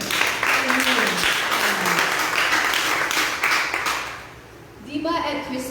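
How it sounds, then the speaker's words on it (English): A congregation at a Sunday church service claps together in a loud, dense burst that lasts about four seconds and then fades, after which a voice begins speaking. "So let's give the Lord a clap offering."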